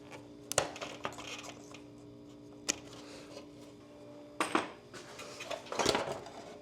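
Loose bulb rattling inside the taillight of a Harley-Davidson Sportster during a teardown, heard as a few sharp, scattered metallic clicks and clinks with irregular timing, close and fairly quiet.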